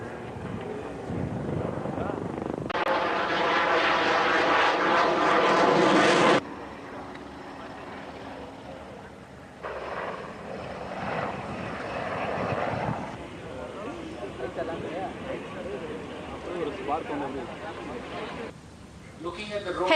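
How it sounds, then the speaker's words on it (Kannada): A Tejas fighter jet and light Dhruv helicopters roar and whir in passes over an HAL air show in Bangalore, engine noise rising and fading in sections, with a voice speaking over it. "ತೇಜಸ್ ಯುದ್ಧ ವಿಮಾನ ಹಗುರ ಧ್ರುವ ಹೆಲಿಕಾಪ್ಟರ್ಗಳು ಬಾನಂಗಳದಲ್ಲಿ ಚಿತ್ತಾರ ಮೂಡಿಸಿದವು."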